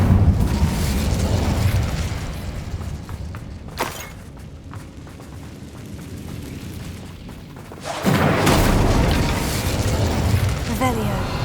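The Incendio fire spell in Hogwarts Legacy bursts out as a loud, roaring blast, swells again after a quieter rumbling lull, and leaves a sustained fiery wash.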